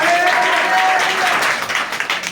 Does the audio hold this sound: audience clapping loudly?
yes